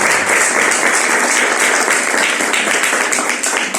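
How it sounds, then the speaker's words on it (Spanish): A church congregation applauds together, a dense, loud wash of clapping held steadily for a few seconds without pause. "Démosle un aplauso a Cristo Jesús."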